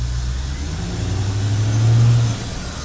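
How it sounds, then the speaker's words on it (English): Corvette C4 with a TPI L98 engine revving up from idle to a steady, louder drone before easing back, heard close with no talking. "Give it a little more gas again."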